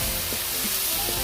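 Mushrooms and broccoli sprinkled with salt are stir fried in a pan, a close continuous sizzle with soft stirring scrapes, no voices.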